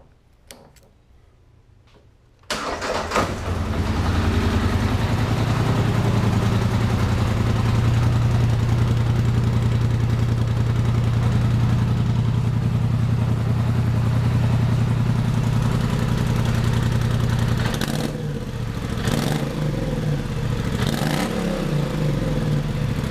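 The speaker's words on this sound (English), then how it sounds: "here's the startup with stock exhaust" An engine with a stock exhaust cranks and fires up after a brief quiet moment, then holds a loud, steady, rumbling idle with light ticking and clatter, close by and without talk.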